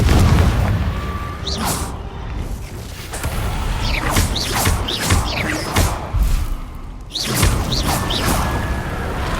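Fiery blasting spells exploding in Hogwarts Legacy combat, a rapid series of loud booms, whooshes and crashing impacts layered over a dense game soundscape, with no talk.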